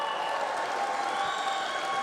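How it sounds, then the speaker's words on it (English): Audience at an Alpha Chi National College Honor Society induction ceremony gives a steady round of applause, dense and even clapping that fills the hall for the whole moment. "let's have one more round of applause for our newest inductees"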